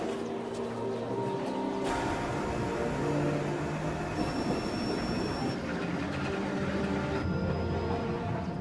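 An aerial tramway car rumbles and rattles as it departs along its cable in the San Jacinto mountains, with a steady loud mechanical roar and a few high squealing tones, no voices.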